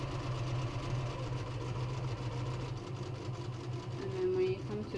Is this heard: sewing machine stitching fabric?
yes